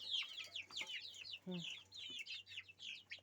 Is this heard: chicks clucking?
yes